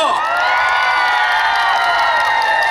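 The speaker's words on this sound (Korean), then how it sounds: "박수 함께 해주십시오." A large outdoor concert crowd at a beach park cheers and claps in a loud, steady wash of sound, with shouts and whoops rising above it for the whole stretch.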